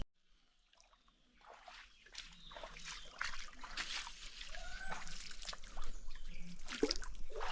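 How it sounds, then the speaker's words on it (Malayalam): A mountain stream in the Velliangiri Hills splashes and trickles over rocks, starting faint and gradually swelling into a closer, steadier gurgle of moving water. "നല്ല സൂപ്പർ അരുവി"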